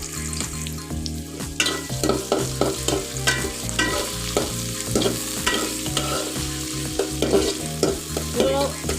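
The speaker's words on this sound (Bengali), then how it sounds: "তখন আমি প্রথমে ভেজে নেব বন্ধুরা" Sliced onions and green chilies frying in a pan, a constant close sizzle broken by regular scraping strokes of a spatula stirring them, with no voices.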